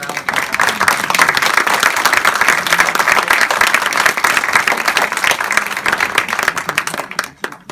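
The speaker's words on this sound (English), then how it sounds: "let's give our candidates one round of applause." An audience at a 2018 SJNEA candidate forum claps for the candidates, a loud, dense burst of applause that holds steady and then trails off quickly at the very end.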